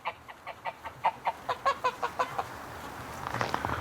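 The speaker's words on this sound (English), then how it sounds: "The geese want to be with the ducks in the barn." Geese and ducks head into a barn on a winter farm, giving a rapid run of about a dozen evenly spaced clucking honks, fairly close and clear, fading into rustling noise at the end.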